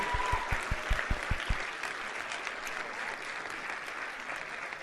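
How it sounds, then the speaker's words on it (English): Audience giving one more round of applause, sustained crowd clapping from start to finish, with a few heavy rhythmic thumps early on beneath it. "I think that they should get one more round of applause"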